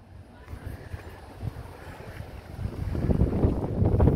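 Strong, dry, gusty wind on a city street in central Teresina, low buffeting rumble against the microphone that builds louder in the second half, with no talk.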